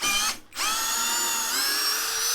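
A Leader Ultra 20V impact drill-driver runs steadily as it backs out screws, a loud sustained whine that stops briefly, then spins up again and carries on to the end.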